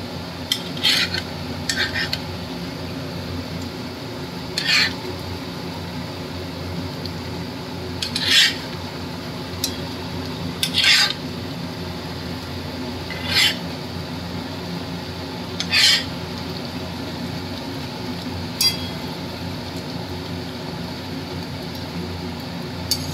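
Katla fish pieces cooking in a pan while a utensil stirs them, sharp metallic scrapes and clinks every few seconds over a steady low kitchen hum, no speech.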